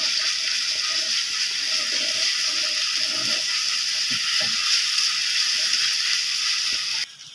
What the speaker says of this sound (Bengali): হালকা করে ভেজে নেব পেঁয়াজগুলো